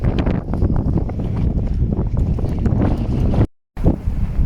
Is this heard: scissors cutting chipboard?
no